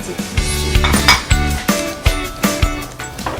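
A large bell pepper is cut with a knife: a series of crisp, regular chopping knocks on a board, about ten strokes in quick rhythm, close and loud with no talk.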